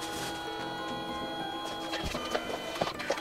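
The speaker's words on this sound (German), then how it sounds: "Das Bild wird jetzt übertragen an den Drucker und dann wird das Bild ausgedruckt." A Canon SELPHY CP1300 mobile photo printer runs a print job, giving a steady mechanical whir with a few small clicks and knocks toward the end, close by with no talking.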